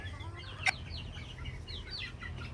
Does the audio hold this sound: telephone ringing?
no